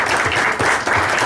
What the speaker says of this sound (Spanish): vamos a darnos un aplauso por esta sesión